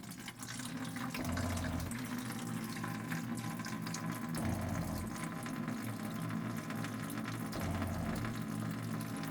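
Water runs steadily through a camper van's plumbing during a leak test, a continuous tap-like flow with a low pump hum that pulses at intervals underneath, close and moderately loud, with no talking.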